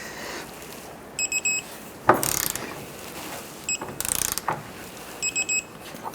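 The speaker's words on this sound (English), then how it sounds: "Let's go ahead and torque down our subframe bolts to 118 foot-pounds." Torque wrench ratcheting on subframe bolts of a 2006-2013 Chevrolet Impala, producing several short bursts of rapid clicking at close range over low shop noise, with no talk.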